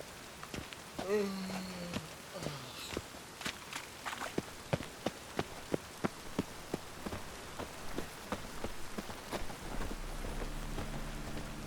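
Steady rain falls in The Witcher 3 video game, a continuous wash with scattered sharp transient hits and footstep-like taps; a voice is briefly heard and a low droning tone enters near the end.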